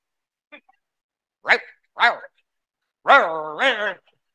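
A man imitates a dog barking with his voice, giving a few short voiced yaps followed by a longer drawn-out bark, close and loud in a quiet room.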